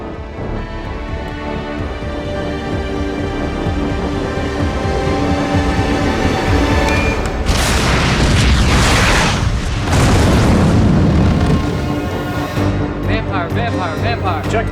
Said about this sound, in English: Missile is ready to launch.